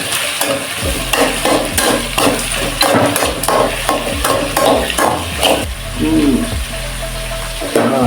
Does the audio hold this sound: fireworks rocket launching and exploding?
no